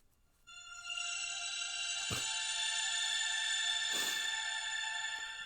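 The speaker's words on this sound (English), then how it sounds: "this is my current alarm clock" A phone alarm tone called Bright-eyed plays steadily as a bright, sustained ringing pattern, clear and alone, with a couple of brief swishing noises partway through.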